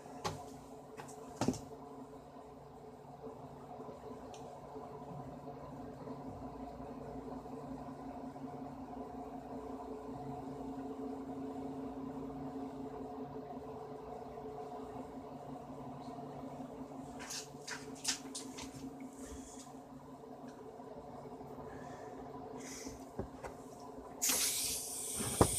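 A homemade Tesla turbine spins on compressed air at 70 psi, producing a steady, sustained hiss and whir. A few brief clicks and knocks break through, with a louder rush near the end.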